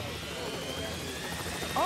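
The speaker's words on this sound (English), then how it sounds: "There's a helicopter there." A helicopter approaching over an island during an outdoor survival competition, its rotor drone steady and loud with voices heard alongside.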